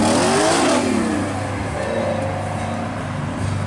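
A car at a Lake Mary, Florida Cars & Coffee meet accelerates hard with a loud exhaust, a close roaring rev that swells early then settles into a sustained drone as it pulls away.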